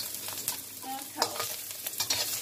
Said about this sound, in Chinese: 要炒